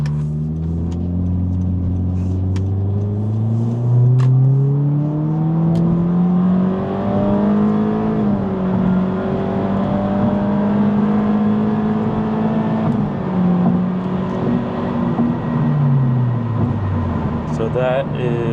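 A 2022 Honda Civic Sport with the 2.0L engine floored in normal mode, its engine note climbing steadily through rising revs over about eighteen seconds, with a shift dip partway through and steady road and cabin noise underneath.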